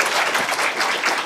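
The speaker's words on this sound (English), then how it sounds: "giving a round of applause for our three wonderful speakers" An audience applauds the speakers at a panel event. The clapping is brief and fairly soft, a second-long wash of claps with no talk over it.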